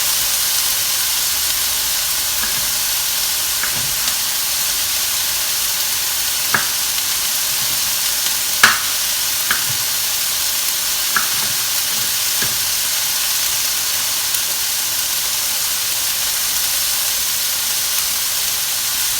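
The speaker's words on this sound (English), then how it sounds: "add it in, give it a mix." Chopped ingredient stirred into a frying pan for chicken noodle soup, with a steady sizzling hiss throughout and a few soft clinks and scrapes of the utensil.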